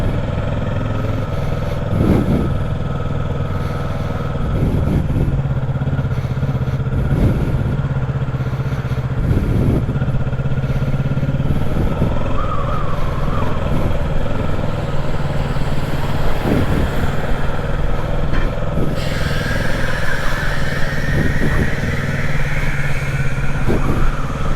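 A new 2025 Kawasaki Ninja 650 heard from the rider's seat gives a continuous engine drone mixed with heavy wind rush. The pitch shifts slightly through the ride, with no talking.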